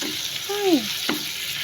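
Chicken adobo sautés in a pan with a soft, steady sizzle and frying hiss. A brief voice is heard over it partway through.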